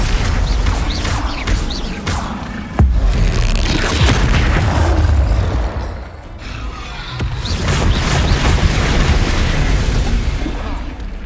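Incendio fire spell cast in a Hogwarts Legacy battle arena fight: loud, continuous booming blasts and bursts, with a sharp hit near the start and a brief lull midway before the roar resumes.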